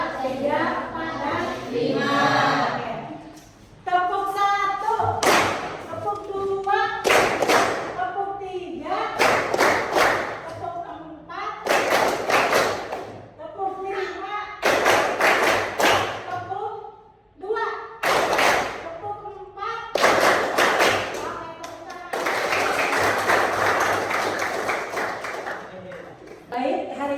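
A school class plays a numbered clapping game, with bursts of many hands clapping in rhythmic groups that alternate with a teacher's voice and children's replies, loud and close in a classroom.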